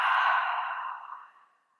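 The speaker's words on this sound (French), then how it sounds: "Grande expiration par la bouche." A single long, breathy exhale through the mouth during a gentle yoga session, close and soft, fading gradually over under two seconds.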